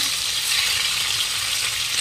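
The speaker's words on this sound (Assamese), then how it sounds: "ভালকৈ মাছকেইপিচ ভাজি ল'ম" Pieces of fish frying in hot oil while making a spinach fish curry, a steady, loud sizzle that holds evenly throughout with no talking.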